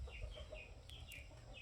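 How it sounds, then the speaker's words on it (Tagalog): Chickens cluck close by in a home kitchen setting, a run of several short, moderately loud clucks over a low background hum. "Maingay ang manok natin guys dito."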